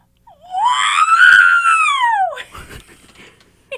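A person imitates R2-D2 from Star Wars with a voice: a loud, rising-and-falling electronic-style whistle lasting about two seconds, then a short burst of chirpy warbles and clicks, close and alone.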